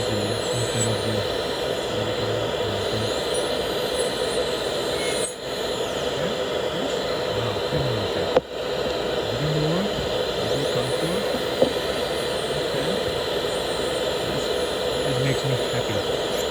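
A zirconia implant provisional is ground in a dental lab, giving a steady, loud, high-pitched grinding whine that runs unbroken throughout with only a couple of brief dips.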